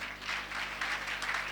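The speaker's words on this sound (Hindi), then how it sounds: "जोरदार तालियां।" Applause from an audience at a college debate competition, a continuous dense wash of clapping filling the hall for the whole stretch without pauses, steady and moderately loud.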